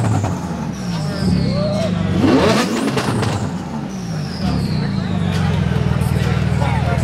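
Porsche GT2 RS accelerating at a car meet, engine roar rising and falling with a turbo whine, mixed with other revving cars and crowd chatter; people talk throughout.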